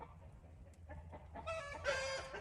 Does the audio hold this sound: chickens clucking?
yes